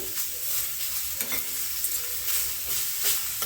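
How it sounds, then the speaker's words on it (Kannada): Grated coconut stir-roasted in a pan for a Sankethi Brahmin dish: a steady dry crackle and sizzle with repeated scraping strokes of a spoon or spatula, close and moderately loud, no voices. "ಇದಕ್ಕೆ ಒಂದು ಅರ್ಧ ಕಪ್ ಆಗೋಷ್ಟು ತೆಂಗಿನ ತುರಿನ ಹಾಕಿ ಮತ್ತೆ ಚೆನ್ನಾಗಿ ಹುರ್ಕೋತಾ ಇದ್ದೀನಿ"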